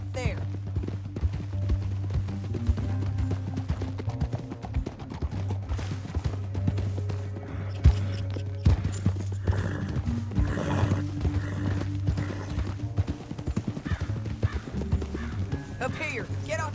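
Horses gallop in the Red Dead Redemption 2 video game, steady clip-clopping hoofbeats running throughout with occasional whinnies, mixed under a low droning music bed and some voices talking.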